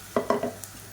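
Blended tomato is stirred into sautéing onions in a pan, giving a few quick, close scraping strokes over a faint background sizzle.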